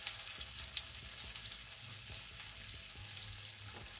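Tofu slices frying in a pan over medium heat give off a steady, close sizzle with faint crackles, and no voices are heard.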